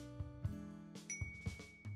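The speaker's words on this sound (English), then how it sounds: "The bell chimes when you walk in." A shop door bell chimes on entering a bookstore in a video game, a few soft metallic clinks and bright ringing tones scattered over a quiet background, fairly close and faint.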